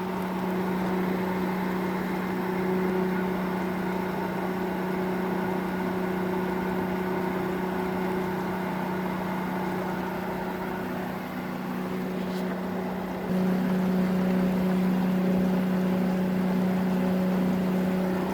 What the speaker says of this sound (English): So the pump is struggling to start up.